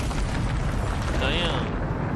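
A Bombarda explosion spell goes off in the video game Hogwarts Legacy, a loud rumbling blast with a short whooshing magical shimmer through the middle, heavy and continuous for two seconds, with a voice over it.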